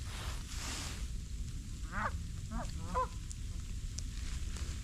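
A goose honks near a frozen ice-fishing spot during a blizzard, giving about three short, fairly distant honks over a steady low rumble of wind.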